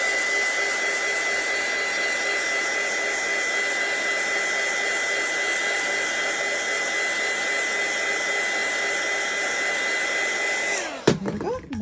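A hair dryer blows steadily and loudly on wet watercolour paint, a constant whooshing whine that cuts off abruptly near the end.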